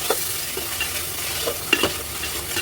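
A spatula works through masala frying in oil in a pan, with a steady close sizzle and scattered scraping knocks as it is stirred, no voices.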